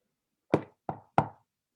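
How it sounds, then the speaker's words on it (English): Three crisp knocks on a door, close and loud, the last two following quickly after the first, in an otherwise silent room. "Cat heard a knock at his door."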